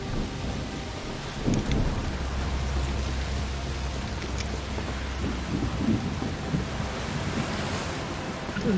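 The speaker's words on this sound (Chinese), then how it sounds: "那个是下雨" Rain pours steadily with low rumbling thunder in the video game A Plague Tale: Requiem, a dense, continuous wash of water and wind throughout, with no talk.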